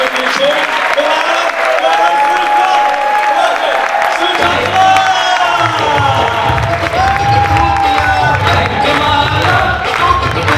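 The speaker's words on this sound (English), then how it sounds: "So we need a huge big round of applause once again" A live audience at a stand-up comedy show in Harrow bursts into loud, sustained applause with cheering and whoops, the crowd filling the room continuously from start to finish with a surge of energy partway through.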